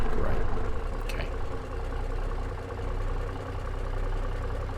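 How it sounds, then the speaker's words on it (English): A Zeemods Big Cam truck engine in American Truck Simulator labouring at low revs, a deep continuous rumbling drone that swells and dips slightly, loud and steady with no voices. "This engine's a little low or lacking on low down torque, which is why it seems to labour."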